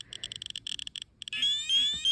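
Radiation dosimeter near contaminated animal bones, rapid clusters of shrill electronic beeps that merge into a continuous high tone, close and alone.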